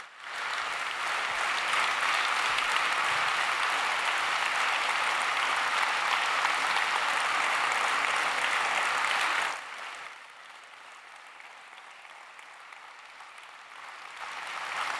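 A crowd on its feet applauds a health minister, thick, even clapping that runs for about ten seconds, then drops abruptly to a quieter scatter of claps and room noise that swells slightly at the end.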